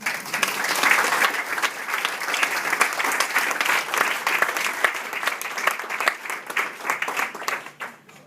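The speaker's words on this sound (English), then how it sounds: "I think they deserve another round of applause" A room full of guests at a 40th birthday party breaks into sustained, lively applause that holds strong for several seconds, then thins out and fades near the end.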